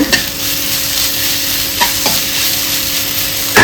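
Apple pieces fry in a pan with a steady close sizzle and a few stirring scrapes and knocks of a utensil, no voices.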